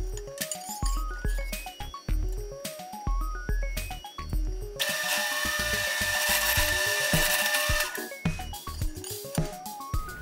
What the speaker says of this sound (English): it's super easy to cut in a bandsaw with a metal blade